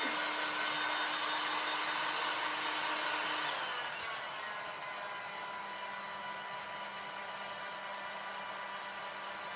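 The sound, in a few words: hair dryer drying paint on an egg carton craft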